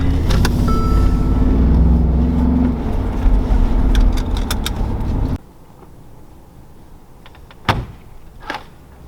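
A Mercedes G63 AMG SUV's engine rumbles loudly nearby as it drives off, then the noise cuts away, leaving quiet background with a couple of brief thumps.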